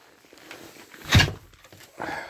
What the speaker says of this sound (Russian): я закрываю дверь